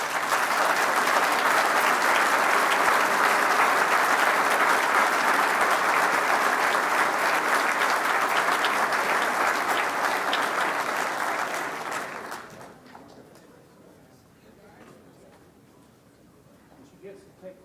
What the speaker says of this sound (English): Ladies and gentlemen, please, round of applause.